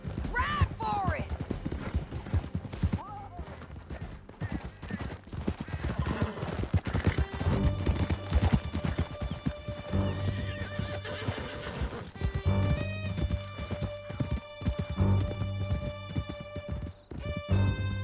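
Several horses gallop hard with steady clip-clop hoofbeats and repeated loud whinnies in a Red Dead Redemption 2 chase, the dense galloping continuing close and loud throughout with game music layered underneath.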